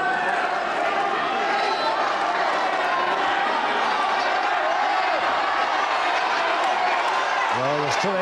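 A crowd at a 1981 wrestling bout between Chris Adams and Mark Rolleball Rocco keeps up a constant dense roar of shouting and noise filling the hall, with a commentator talking over it.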